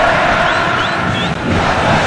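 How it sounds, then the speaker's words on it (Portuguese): Internacional football fans sing together in a packed stadium during the second half of the 2009 Copa do Brasil final against Corinthians, a dense, loud wall of crowd voices chanting continuously. "Torcida do Internacional, depois do susto, depois da decepção, volta cantando no segundo tempo."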